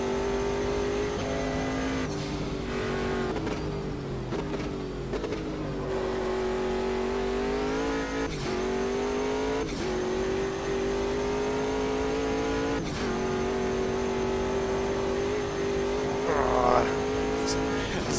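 A race car engine in the Automobilista 2 sim game howls loudly and steadily at Bathurst, with pitch dropping and rising through repeated downshifts and braking, and tyres squealing; someone talks over it.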